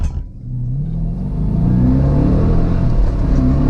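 A Dodge Challenger R/T Hemi launches at a drag strip from about 1500 RPM, its loud, close V8 rumble rising steadily as it revs and accelerates away.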